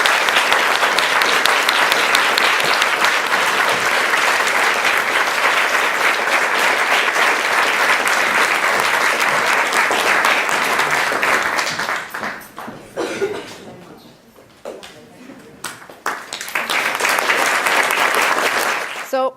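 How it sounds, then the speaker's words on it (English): A large audience at a students' union awards ceremony claps loudly and continuously, then the applause thins and dips briefly before swelling again near the end, with faint chatter mixed in. "So if you give them a huge round of applause."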